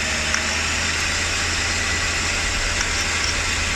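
A Mercedes 600SEL engine runs steadily during a throttle body activation test, a constant mid-pitched idle hum with faint hiss and vibration, close and without talk.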